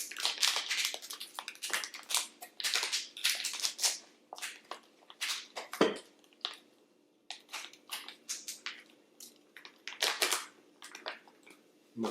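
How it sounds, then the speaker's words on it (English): Plastic packaging around a block of creamed coconut is pulled open and the coconut is pushed out onto a plate, making close, irregular crinkles, rustles and soft scrapes with short pauses and no talking. "open up this plastic packaging, and I'm going to get the creamed coconut out onto a plate"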